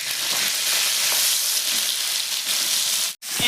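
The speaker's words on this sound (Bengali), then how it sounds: "দিয়ে দিচ্ছি টমেটো কুচি।" Chopped tomato hits a hot pan for chicken biryani and sets off a loud, steady sizzle that fills the clip, broken by a brief near-silent gap near the end.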